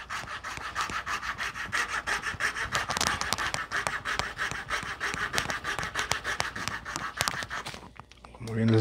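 A hand saw cuts steadily into a tree branch being shaped into a large crochet hook, with rapid rhythmic back-and-forth rasping strokes, close and loud, until the sawing stops near the end.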